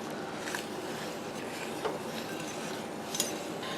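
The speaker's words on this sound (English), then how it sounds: "And now I'm just going to kind of whisk everything together to make sure everything is" Whisking sauce ingredients for crockpot sesame chicken, including sesame seeds, in a bowl gives a steady soft scraping and rubbing with a few light clinks of the whisk against the side.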